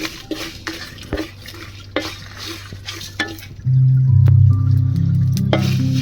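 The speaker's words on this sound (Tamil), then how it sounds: "இது எல்லாமே நல்லா வறுக்கணும்" Chillies, cashews, cardamom, cinnamon, star anise and cloves dry-roast in a pan as a spoon scrapes and clinks in irregular strokes. Midway, a loud, steady low hum takes over beneath the continued stirring.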